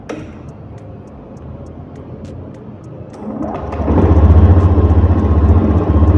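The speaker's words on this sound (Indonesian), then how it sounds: "Baik, kita coba nyalakan motornya ya." Fuel-injected motorcycle engine cranks with a ticking starter and fires up, then settles into a steady, loud, rumbling idle close by, with no one speaking.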